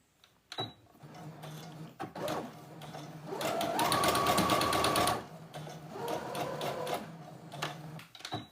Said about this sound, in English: When I base stitch, I'm just going to stitch, you know,